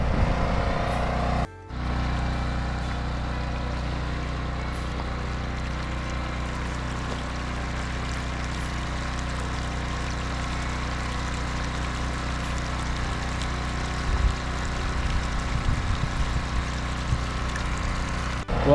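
Steady, low mechanical drone of a pump pulling groundwater out of a flooded excavation, running evenly and unbroken, with a brief dropout early on and faint rustling near the end.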